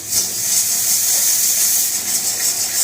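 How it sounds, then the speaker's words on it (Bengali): Spice paste with turmeric and Kashmiri red chilli frying in oil in a pan, a loud continuous bright hiss and sizzle close up with no talk. "একটু হাতে সময় নিয়ে মশলাটাকে ভালো করে কষে নিই"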